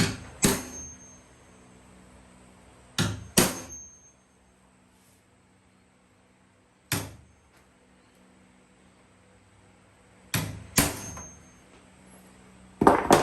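Sharp metallic taps on metal eyelets of a grass catcher dust shield sound in small clusters of one or two strikes, separated by long quiet pauses, close and crisp.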